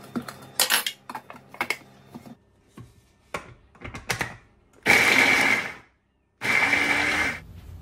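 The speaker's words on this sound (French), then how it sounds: "J'ai bien mixé le persil qui a bien sûr été lavé d'avance avant toute chose et l'oignon" A small food mixer blending parsley and onion whirs in two loud bursts about a second long each, preceded by clinks and knocks of handling the kitchen appliance.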